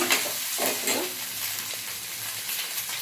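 Egg junnu pieces being stirred in a hot frying pan for a traditional egg junnu fry: steady, close sizzling with scraping stir strokes throughout, no voices.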